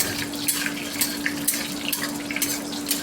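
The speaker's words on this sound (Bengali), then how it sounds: "নিম পাতাটাকে তেলে ফ্রাই করে নেব, ভালো করে ফ্রাই করে নেব, নাড়িয়ে নেব ভালো করে" Neem leaves frying in hot oil, a steady crackling sizzle with soft clinks of stirring, continuous and fairly close throughout.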